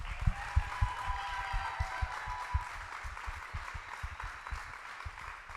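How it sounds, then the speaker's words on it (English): A garage crowd claps for American military veterans at a car giveaway award ceremony, with sharp, fairly close hand claps in an irregular rhythm that thin out and soften toward the end, without speech over them. "these American heroes deserve the biggest round of applause I've ever heard in the Dream"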